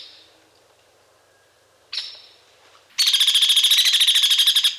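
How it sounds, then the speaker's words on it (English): Hairy woodpecker calls loud and high-pitched: a sharp peek note, another about two seconds later, then a fast, strident rattle of rapid notes sustained for nearly two seconds. "And here's the call of the hairy woodpecker."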